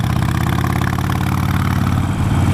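Harley-Davidson Nightster motorcycle engine with the throttle opened, a loud, close, continuous throbbing roar with a pulsing low rumble that holds steady and swells slightly at the end.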